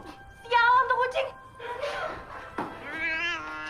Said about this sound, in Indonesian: seketika seekor kucing muncul dan mencakar Leticia.